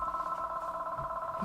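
A landline telephone rings with a steady, warbling electronic trill, loud and continuous, with faint room noise beneath.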